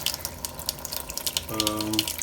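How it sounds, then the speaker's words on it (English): Water runs steadily from both pipes of a Xiaomi water purifier with a continuous rushing hiss, joined midway by a low mechanical hum. "both pipes are outputting water."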